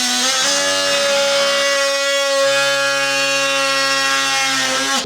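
An oscillating multi-tool cuts along a marked line in a sheet of plasterboard during ceiling installation, giving a loud, steady, high-pitched buzzing whine that holds for about five seconds, with a slight shift in pitch partway through.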